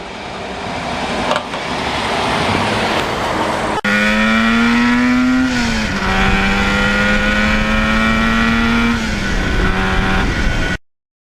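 A 1977 Yamaha RD400 two-stroke motorcycle accelerating hard through the gears, a loud close buzzing engine note climbing in pitch with clear dips at each shift, then cutting off.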